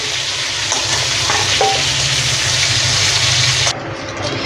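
A bay leaf crackles in hot oil with whole spices, a loud, close, steady sizzle that carries on evenly before suddenly dropping to a quieter, duller hiss near the end.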